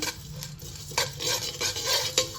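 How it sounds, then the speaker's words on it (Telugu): Cumin seeds fry and get stirred in a hot pan with sesame seeds for a chilli and drumstick-leaf spice powder, a steady scraping stir with soft sizzling and a few sharper scrapes, close and alone. "ఇప్పుడు కొంత జీలకర్ర వేసేసుకుందాం సరిపడినంత అవి కూడా కొంచెం ఫ్రై చేసుకుందాం"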